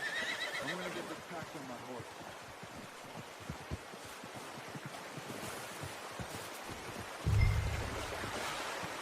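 Horse neighing in Red Dead Redemption 2, a whinny near the start with hooves clip-clopping, plus a low thump near the end, over ambient outdoor noise with a voice speaking at times.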